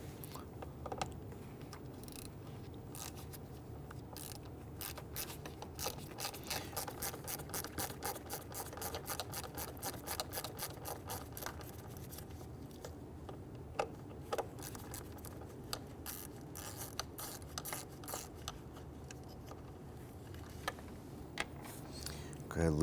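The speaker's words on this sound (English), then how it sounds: "Go ahead, loosen and remove these two screws." A ratchet driver with a T20 Torx bit loosens two screws on the mass air flow sensor of a 2011–2019 Ford Explorer 3.5L V6, giving long runs of quick, even clicks close by, with short pauses between bursts.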